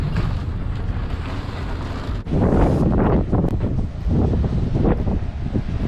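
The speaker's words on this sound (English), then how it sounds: "The nor'west wind in Kaikoura gets pretty rough though." A strong nor'west wind in Kaikoura buffets a house truck, roaring and gusting hard against the vehicle, with a sudden surge after a brief lull and heavy rumbling buffets that continue throughout.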